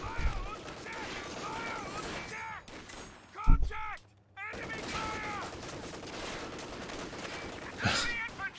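Kubelwagen machine gun fire in Company of Heroes 2, rapid bursts chattering through a busy battle mix, with a brief lull midway and a commentator's voice running over much of it.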